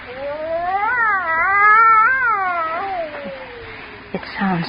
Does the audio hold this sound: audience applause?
no